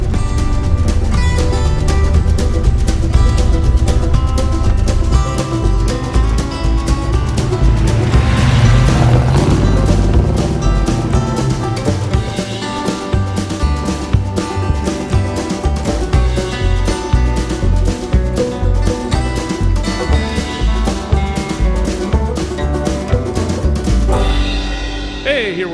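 A 1968 GMC 2500 farm truck with a 396 big block V8 drives along, its loud, steady engine rumble rising and falling over the road noise, with a voice occasionally talking over it.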